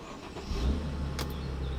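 A Mercedes SLK engine starts on the first try, a short crank that catches into a low, steady idle, fairly quiet and without talk.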